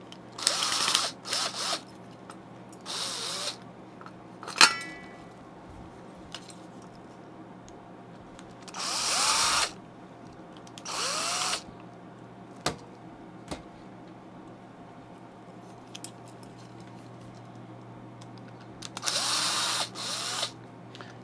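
A cordless power drill backs screws out of a Hampton Bay 36 inch ceiling fan, short whirring bursts of a second or two repeated several times with quiet pauses, clicks and handling knocks between them.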